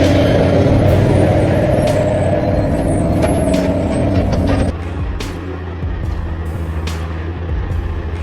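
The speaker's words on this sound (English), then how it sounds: "roar of their engines echoing throughout the air" Trucks on mountain roads, with a heavy engine drone close by and a sharp air-brake hiss partway through, after which the rumble drops and lighter clanks and hisses continue.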